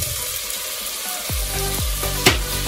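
Tomatoes hit hot oil with cooked spices for a sardine curry, sparking a loud, close sizzle with a few sharp splattering bursts and scraping stirs, no voices.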